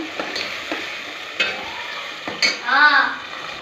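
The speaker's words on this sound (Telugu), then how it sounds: "కొద్దిసేపు నూనెలో వేగనివ్వాలి" Onions and tomatoes sizzle in hot oil for onion pulusu, a soft steady frying hiss broken by several scraping stir strokes and spoon clinks against the pan.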